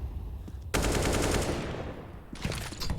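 AK rifle fire in Counter-Strike on the Dust2 map during a professional match: a sustained burst of rapid automatic shots, then a second short burst after a brief gap, fairly loud with no voices.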